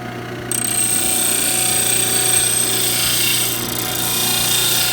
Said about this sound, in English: we're going to go ahead and grind this little tip off here